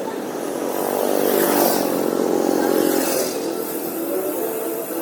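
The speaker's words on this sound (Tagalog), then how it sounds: "Kaya traffic, ang daming motor." Engines of many motorcycles and cars crawl through traffic on the Marilaque mountain highway, a steady dense rumble that swells to a loud pass in the middle and then eases back to a constant roar.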